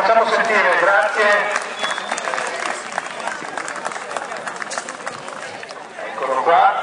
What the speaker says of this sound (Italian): Facciamo un applauso, ci facciamo sentire